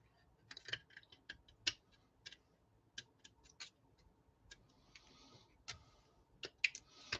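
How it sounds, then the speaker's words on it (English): Support pieces being trimmed off a 3D-printed part: a string of faint, sharp little snips and clicks at an irregular pace, close and quiet, with no talking. "let's start trimming"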